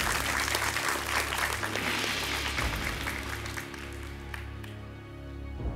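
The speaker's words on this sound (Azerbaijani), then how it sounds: "Futbol və 11 nəfəri biz alqışlayırıq." Studio audience applauding at a televised quiz show, a steady, dense wash of clapping that fills the whole stretch and eases slightly toward the end.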